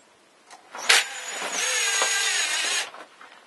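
A power drill drives a screw into a tire wall, giving a sharp initial whir followed by a steady, fairly loud motor whine lasting about two seconds before it stops, with no talking.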